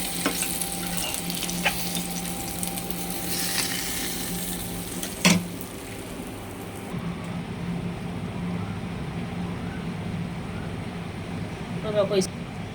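Koi fish sizzle in hot oil in a pan with a steady, close crackle, broken by a sharp clink of a utensil around five seconds and a short burst of stirring near the end; a voice comes through faintly.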